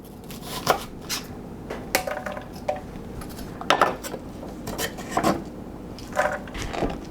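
A kitchen knife chops the tips and heads off carrots on a wooden board, a series of crisp, irregular thuds and scrapes. The chopping is close and clear, with no talking.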